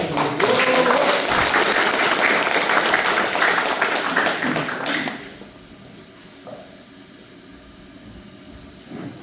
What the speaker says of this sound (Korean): 일단 박수 부탁드립니다.